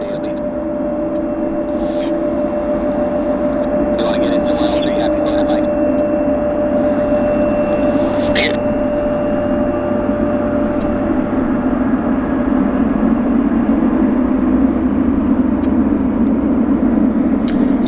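Boeing 777 jet engine at Vancouver Airport, a loud continuous roar carrying a steady sustained tonal whine, with faint outdoor clicks and rustles over it.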